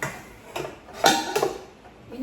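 Stainless steel pans clink and knock as they are handled, a few separate metallic taps spread across a couple of seconds, close by in a quiet room.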